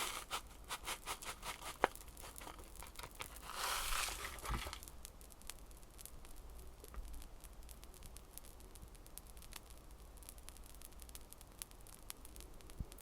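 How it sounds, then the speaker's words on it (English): Faint, rapid crackling and tiny pops of Pop Rocks candy fizz continuously up close in the hands, with a brief burst of wrapper rustle early on. "You can already hear them popping just in my hands."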